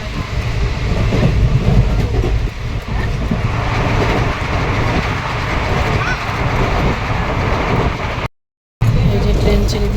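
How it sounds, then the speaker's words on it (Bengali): A passenger train pulls out and runs along the rails, heard from inside as a loud, continuous rumble and rattle that carries on steadily, with one brief moment of silence. "এই যে ট্রেন ছেড়ে দিয়েছে, আমরা এখন ঠিক টাইমে ছেড়েছে।"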